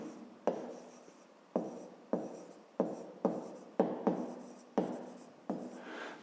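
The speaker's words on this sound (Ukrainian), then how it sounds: "а тепер давайте запишемо. Тобто пишемо необхідно" Pen or pencil writing by hand on paper during a fifth-grade maths exercise: a close series of about nine scratchy strokes, each starting with a sharp onset and trailing off, in an otherwise quiet room.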